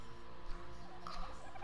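Dodo birds in Ark: Survival Evolved give gobbling, turkey-like calls, faint and somewhat distant over a steady low background hum, with a short warbling burst near the end.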